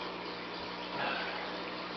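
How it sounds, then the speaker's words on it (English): Water filling an aquarium breeder box, a steady close rushing pour that keeps an even level throughout. "Okay, so we take our breeder box, fill it up with water."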